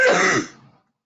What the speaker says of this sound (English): I'm going to mute myself whenever I start to cough